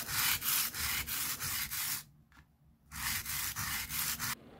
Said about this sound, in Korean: 버가 생겼으면 뒷면을 사포에 밀착해서 쓱 밀어서 버를 떨굽니다.